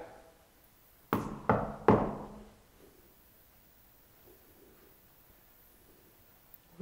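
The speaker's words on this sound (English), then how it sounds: "I'm going to knock." Three sharp knocks on a wall inside a reputedly haunted manor, spaced about half a second apart and fairly close, followed by near silence with faint room noise.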